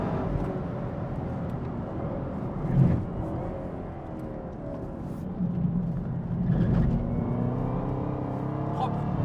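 A 659 hp Chevrolet Camaro ZL1 on a race circuit, its engine a steady muffled drone with a couple of swells as it accelerates, heard from inside the car under people talking.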